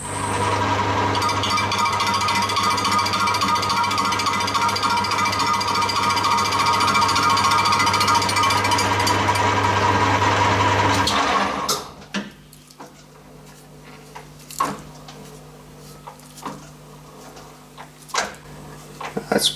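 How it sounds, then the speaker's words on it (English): Machining cuts into the corner of a cast aluminium bandsaw table: a loud, steady grinding chatter for about eleven seconds. It stops abruptly, and faint clicks and knocks follow. "So what we'll do now is get this corner machined off, and then we'll have a go at the facing."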